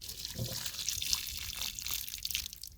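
Hot water pours steadily over slugs in a garden at night, a continuous splashing hiss with faint dripping throughout.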